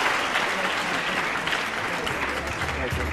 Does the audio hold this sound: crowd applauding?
yes